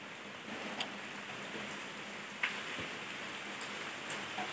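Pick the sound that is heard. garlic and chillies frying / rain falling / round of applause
rain falling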